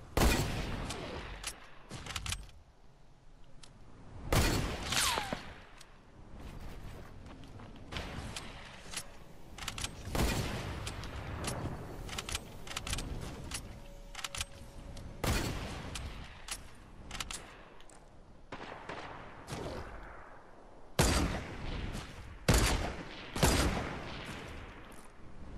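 Video game gunfire rattles out in dense bursts of rapid shots and loud single cracks, with short pauses between volleys, heard throughout with no talk.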